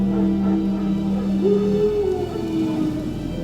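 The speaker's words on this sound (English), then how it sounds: "No. Wild dogs. Yes. More dangerous than wolves." Wild dogs howl in The Witcher 3, a long wavering howl rising and falling over steady low ambient drone, with faint other tones beneath; no talking.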